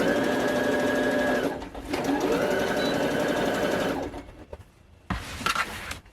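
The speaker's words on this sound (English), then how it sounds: "So I'm gonna sew the sides together now." A sewing machine stitches together the side seams of a Mandalorian-style flak vest, running in loud close bursts with a brief pause, then stopping, followed by quieter handling noises.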